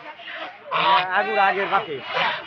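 Loud nasal honking calls from large egg-laying ducks about 7-8 months old, close by, several harsh quacks in quick succession.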